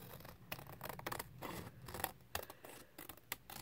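Scissors trimming closely around a Rolodex card for junk journal ephemera, blades angled against the card edge: a close, irregular run of crisp snips and light paper scratches with short pauses, no talking.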